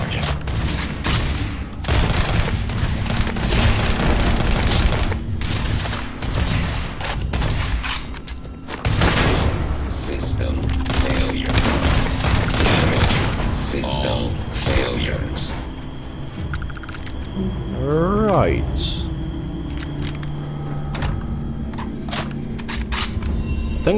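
Shotgun blasts and gunfire in the video game Starfield come as dense, loud, rapid booms that run for most of the stretch, with a player talking over the action.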